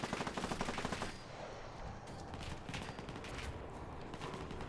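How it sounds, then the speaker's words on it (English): Enemy gunfire in Fallout 4, modded wasteland play: a dense, loud burst of rapid shots for about a second, then scattered, lighter reports continuing in the background with no talking. "Are they really that far away shooting at me?"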